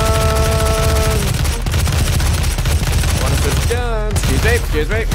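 Rapid, loud automatic gunfire in the video game Doom rattles in dense bursts, joined by game sound effects and a player's voice partway through.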